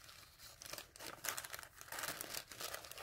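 Coffee-dyed paper for a junk journal being handled up close, giving soft, irregular crinkling and rustling bursts that come and go over a few seconds with no talking.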